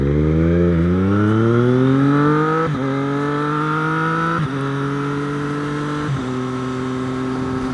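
A Triumph Street Triple 765 motorcycle accelerates hard through four quick short-shifted gears, each upshift briefly dipping the rising engine note before it climbs again. The bike pulls away loud and close, with no talk.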